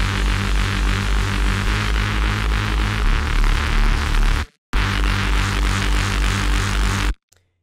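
A Reese bass patch built in Serum plays as a loud, thick, buzzing sustained synth with a pulsing low end, broken by a short gap and then a second held note.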